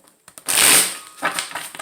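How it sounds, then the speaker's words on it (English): A short burst of tarot cards being riffled and shuffled up close, a crisp papery flutter followed by a softer second riffle. "forgive me if these cards are bothering you when I shuffle them"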